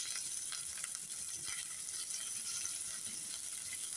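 Cumin, mustard seeds and curry leaves sizzle steadily in hot oil with a faint, even crackle that continues throughout, and nobody speaks over it.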